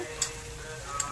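Spices frying in hot oil for kadhi, a quiet steady sizzle close by with two brief sharp ticks from the pan, and no talk.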